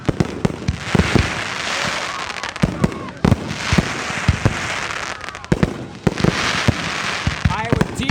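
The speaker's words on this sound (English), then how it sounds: "it's one of those fireworks that it just does, and it surprises right there in the middle of nowheres" Canada Day fireworks burst in repeated loud explosions with sharp cracks and crackling tails, spaced through the clip over a steady crowd murmur.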